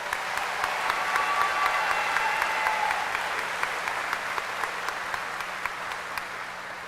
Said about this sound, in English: please give our graduates a round of applause